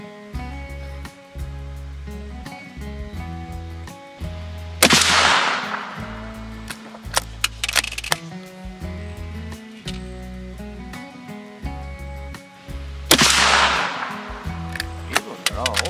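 Firearm shots at targets on a range ring out as a few sharp, loud cracks spaced several seconds apart, with lighter clicks and handling noise between them and a voice talking low in the background.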